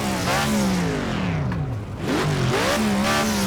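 A BMW GT3 race car in Project CARS 2 screams through the revs, its engine tone climbing and dropping across several gear changes, loud and continuous.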